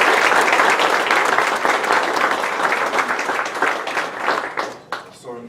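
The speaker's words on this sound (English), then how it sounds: "Let's have one more round of applause for Michael Harris and our award recipients" Applause for award recipients at a school coach's banquet: a crowd claps loudly and densely, then the clapping thins and fades out into scattered last claps near the end.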